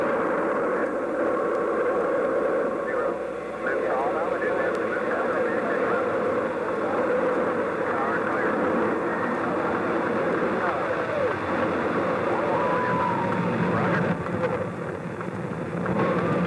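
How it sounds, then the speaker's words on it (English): A deep, continuous roar of Space Shuttle Columbia's main engines at launch rumbles throughout, steady and powerful, with radio chatter from a voice faintly heard over it. "We have main engine ignition."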